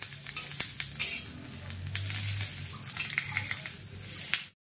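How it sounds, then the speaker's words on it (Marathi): Oil crackles and sizzles steadily in a pan as chillies roast, with scattered sharp pops and occasional clinks of a utensil against metal. "आणि या मिरच्या पण तेल टाकून भाजून घेते छान"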